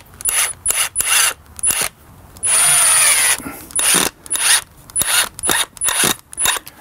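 A power drill drives a screw while setting out a building extension, whirring in short repeated bursts around one longer sustained run, loud and close, with no talking.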